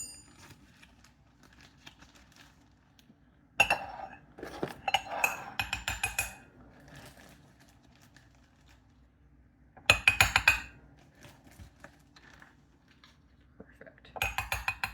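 Sparse, close metallic clinks and scrapes of a tablespoon measuring flour into a bowl, in a few short bursts separated by quiet stretches, with faint whispering.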